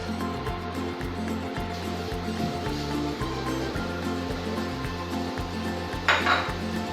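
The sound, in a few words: chopped onions added to a heated pan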